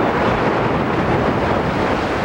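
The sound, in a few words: pounding ocean waves at Avila Beach, California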